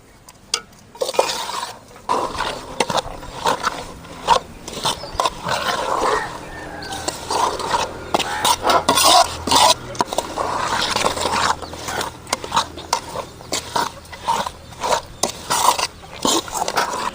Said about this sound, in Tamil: நல்லா கலந்துக்கலாம்.